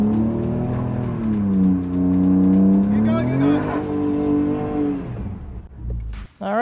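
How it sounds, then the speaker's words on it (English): A car performs a tire burnout on a WeatherTech floor liner, its engine revving hard in a loud sustained howl with rising and falling pitch and squealing tires, then cutting off abruptly near the end. "Definitely looks like there was a burnout done on top of it."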